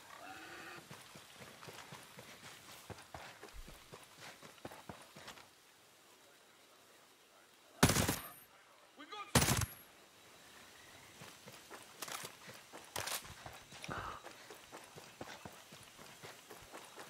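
Two loud gunshots crack out in a video game about two seconds apart, with a few fainter pops after them, over quiet background rustle and footsteps.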